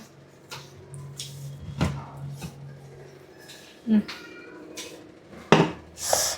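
Dishes and kitchen utensils clatter and knock in a few scattered bursts as a mixer jar is fetched, fairly close, with some quiet talk in between.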